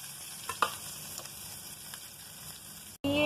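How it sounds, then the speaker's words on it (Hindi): Chopped chilli and onion sizzle in hot oil in a pan, a faint steady frying hiss with a few small clicks and stirring taps, then a louder burst of sizzle near the end. "अब ये ऑयल गर्म हो जाएगा तो फिर मैंने मिर्च और प्याज काट लिए, इसको मैं इसमें डालूंगी"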